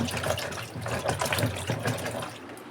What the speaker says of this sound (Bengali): ঢেঁড়সগুলোকে আমি ভালো করে ধুয়ে নিচ্ছি